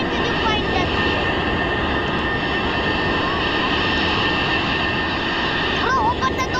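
An airplane engine runs in a constant, droning hum with a steady whine on top, while people talk over it.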